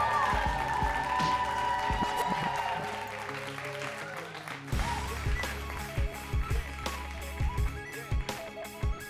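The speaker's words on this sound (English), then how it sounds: "please welcome him warmly. Let's clap it up, y'all, for X" Audience at a live spoken-word show, Live Culture: Voices in Power, clapping to welcome a performer. A brief round of applause fades within a few seconds, then scattered knocks and taps follow, with a voice faintly underneath.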